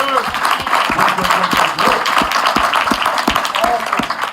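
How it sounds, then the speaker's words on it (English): An audience claps along in a loud, fairly regular rhythm, the claps blending with scattered cheers and voices throughout. "Clap it up if you're always up on opportunity."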